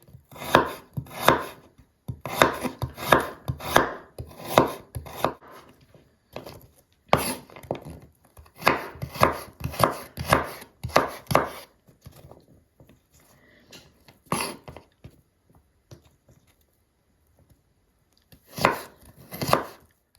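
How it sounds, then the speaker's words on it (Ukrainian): Rapid, steady knife strokes finely chopping carrots on a cutting board for borscht, in long fast bursts with short pauses, close and crisp. "Я зараз буду дрібненько нарізати моркву."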